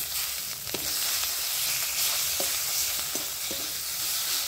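Spice masala with ginger, garlic, turmeric, chili powder, salt and tomato frying in a pan, a continuous loud sizzle with intermittent soft scrapes and taps of stirring.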